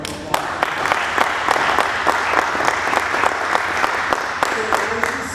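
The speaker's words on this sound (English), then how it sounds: "I know it's just us, but we owe ourselves a round of applause." Board of Education members and staff at a school district meeting give themselves a round of applause, a small group clapping steadily with distinct individual claps standing out over a continuous patter.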